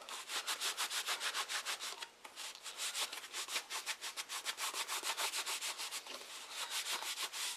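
Steady back-and-forth buffing along the edge of a handmade leather belt-knife sheath, a close, even rhythm of rasping strokes with one brief pause, and no voices.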